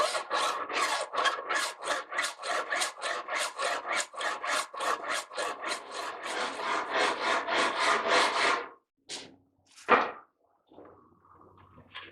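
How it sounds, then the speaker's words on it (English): A file set at an angle in a wooden block rasps along the clipped fret ends of a mandolin fretboard, about twenty quick, even back-and-forth strokes close up, followed by a few separate scrapes and knocks. "Now I clean up these sharp clipped fret ends with a file inset at a certain angle into a block of wood."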